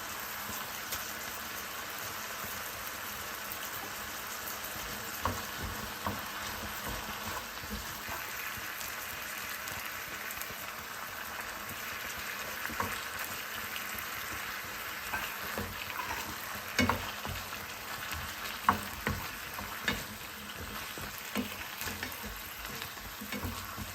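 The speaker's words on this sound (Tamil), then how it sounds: "இப்போ மூடி போட்டு ஒரு 2 நிமிஷம் வேக வைக்கலாம்." Mint chicken curry sizzles and bubbles steadily in a pan, a dense continuous frying hiss with small pops and stirring scrapes, loud and close throughout, with no talking.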